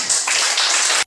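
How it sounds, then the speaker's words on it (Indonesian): Hand clapping from a classroom group fills a brief burst of about a second, dense and fairly close, stopping abruptly. "Oke, baik, tepuk tangan"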